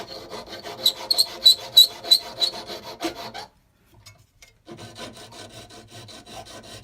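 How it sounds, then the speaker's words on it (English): Hand filing of sprues off a copper ring, with rapid rasping strokes in a rhythmic run, a brief pause, then steadier close filing resuming. "after filing these little sprues off, it will be around about the correct size"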